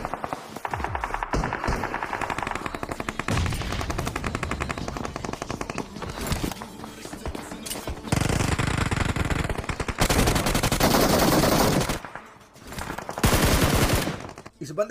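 UMP submachine gun firing in a battle royale video game, loud rapid bursts of automatic fire broken by short pauses and reloads, with faint game sounds between.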